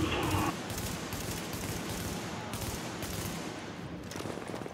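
Gunfire in the video game The Division: sustained, rapid automatic bursts and overlapping shots fill the whole stretch, loud and dense, with a heavier blast right at the start.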